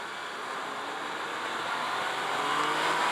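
A 2017 Yamaha FZ-09 motorcycle accelerating hard, its engine a steady rising roar mixed with heavy wind rush that grows slightly louder over a few seconds.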